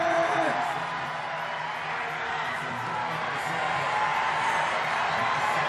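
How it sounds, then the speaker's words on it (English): Crowd roars and whoops throughout a parkour competition final at FISE Montpellier, a sustained, loud wash of cheering carried under a commentator's steady talk. "You can hear that crowd going absolutely insane."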